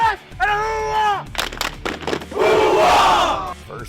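A high school football crowd at a field in Langford joins in a hoo-ah chant, voices shouting together loudly in bursts with some claps, ending in a long, loud collective yell.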